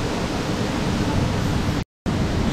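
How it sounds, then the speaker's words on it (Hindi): Dudhsagar waterfall pours as a loud, dense, continuous rush of falling water, with a brief total dropout near the end before the roar resumes. "तो ये जो है वो वाटरफॉल का पानी है और ये जो वाटरफॉल है वो है दूध सागर वाटरफॉल"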